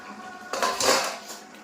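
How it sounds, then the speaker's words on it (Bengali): A metal lid lifts off a cooking pot holding a simmering chicken skin dish, a brief clattering clank and scrape of metal against metal, close and fairly loud. "আর এখন ঢাকনাটা তুলে দিই, দেখি কি খবর।"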